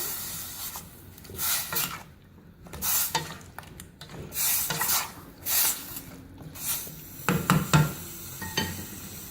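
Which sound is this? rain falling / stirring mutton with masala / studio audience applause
stirring mutton with masala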